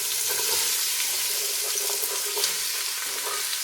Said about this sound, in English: We're gonna put the onions, the ginger, garlic, and sweet potato in.